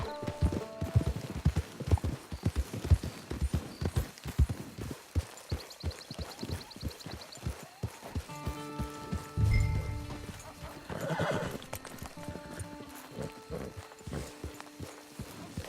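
Horse hooves clip-clop at a walking pace in the Red Dead Redemption 2 video game. A neigh rises partway through, and a few clear game tones sound alongside, with no talking over the hooves.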